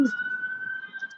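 A police siren wails in downtown Denver, a steady sustained tone that stays faint and distant throughout, set against quiet street background.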